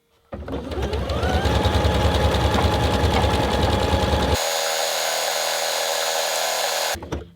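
A Janome Atelier 6 computerized sewing machine stitches a star design, its needle chattering fast and close before the pitch shifts to a smoother mechanical whir that cuts off sharply at the end.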